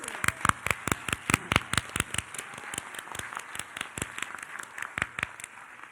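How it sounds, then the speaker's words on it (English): Applause at an annual celebration gala, heard as sharp, distinct claps in a quick, even rhythm that fall across a softer bed of scattered clapping, fairly faint and a little distant. "Let's give Angela a big round of applause."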